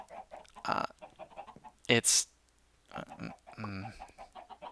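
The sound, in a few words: chickens clucking in Minecraft video game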